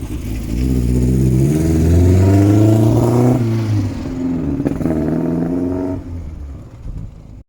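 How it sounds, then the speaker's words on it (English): Ford Fiesta Mk1 converted to a Zetec engine, running rich after new spark plugs, revs up loud and close, holds a rough throaty idle, blips again, then settles and cuts off. "the car started up again."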